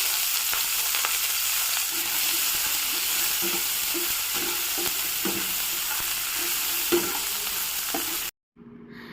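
Onions frying in hot oil in a pan for a mushroom masala, a steady loud sizzle with soft stirring scrapes throughout, then a sudden drop to near silence at the end.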